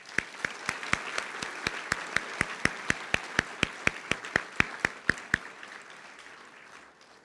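At the 2025 Pocola high school graduation ceremony, the audience applauds the graduating seniors. Sharp, evenly spaced claps ring out in a steady rhythm over a softer bed of clapping, then stop while the remaining applause fades away.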